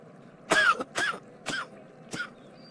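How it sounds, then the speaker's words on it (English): An elderly father coughs four times in short, separate, forceful bursts spaced about half a second apart, close and clear against a quiet background. "This cough is starting to worry me."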